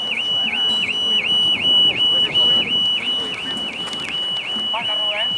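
A car alarm sounds at an amateur football match, a loud, close whooping tone pulsing in quick regular repeats about three times a second throughout, with shouting voices and crowd noise underneath.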